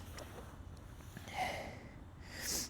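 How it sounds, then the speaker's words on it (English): A person blowing their nose at a skatepark on a rainy day, with two short, breathy honking bursts over a low background hum. "I need to blow my nose."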